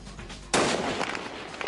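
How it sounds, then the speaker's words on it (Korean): A single sharp rifle shot from a Korean special forces sniper cracks out over low background noise, firing through a glass window at a target about 225 m away, followed by a sustained rough burst that decays slowly. "허공을 가르는 총소리와 함께 총탄은 유리창을 뚫고 테러범을 명중시켰습니다"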